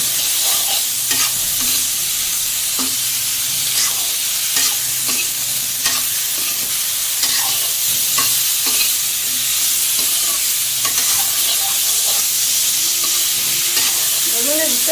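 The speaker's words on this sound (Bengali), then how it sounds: "এখন বেগুনটা ভাজছি।" Brinjal frying in fish oil with turmeric and a little salt in a home kitchen, a loud continuous sizzle broken by repeated scraping stirs of the pan, with no talk.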